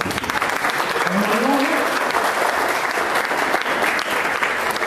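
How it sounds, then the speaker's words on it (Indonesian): A lecture audience at a university gives sustained applause, thick, even clapping from many hands filling the room with a brief voice rising faintly underneath. "Mau tepuk tangan aja."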